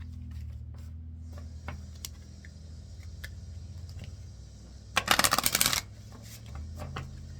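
A quick burst of tarot-style cards being shuffled for a reading, a dense riffling flutter lasting about a second, with a low room hum underneath and a few faint clicks around it.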